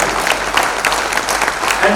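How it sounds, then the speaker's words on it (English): Audience applause fills the hall at a Lions district cabinet installation ceremony, a steady clapping from a crowd that holds for the whole two seconds at a close, full level. "he deserves a very big round of applause"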